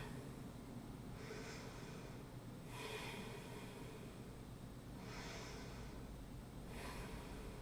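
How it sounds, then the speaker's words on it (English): Slow, deep breaths during a yoga forward fold come as four soft, airy exhales at an even pace. They are faint and close, over a steady low background noise. "Exhale, fold forward. Take 5 deep breaths here."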